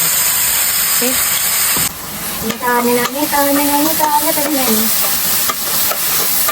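Ground paste frying in coconut oil in a pan while being stirred, with a steady loud sizzle and hiss, scraping stir strokes, and brief faint voice in the background.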